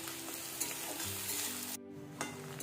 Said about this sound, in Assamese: এয়া পিয়াজখিনি এতিয়া মই ভাজি থাকিম